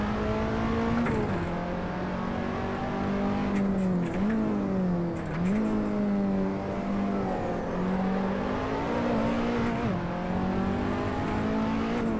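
Race car engine in the Assetto Corsa racing game, droning steadily and close up, with several dips and rises in pitch as the car brakes for corners and accelerates again, no voices over it.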